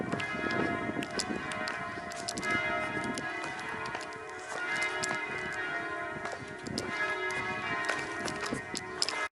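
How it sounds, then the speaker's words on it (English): Church bells ring continuously in the distance over a busy outdoor street in Trieste, with faint footsteps and clatter mixed in. "Get to hear the church bells."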